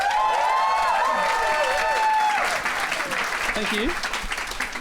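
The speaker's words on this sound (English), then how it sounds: "give me a round of applause if you have heard our podcast before" A live comedy podcast audience breaks into loud applause and cheering, a dense roar of clapping with a whooping voice rising over it, then someone says a brief thanks as it fades.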